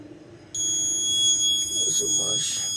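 An ESP32 QR-code smart parking system's alarm buzzer sounds as a steady high-pitched electronic tone that starts abruptly and holds, with people talking under it.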